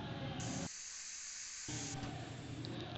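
A pressure cooker cooking rice on the stove lets off a loud, steady steam whistle and hiss that drops away for a second and then resumes, heard close with no talk.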